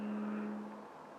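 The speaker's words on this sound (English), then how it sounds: "because you can probably hear that car." A car passing outside a closed-off bedroom window, a faint steady whirring rush of tires and engine that fades away quickly, distant and muffled with no talking.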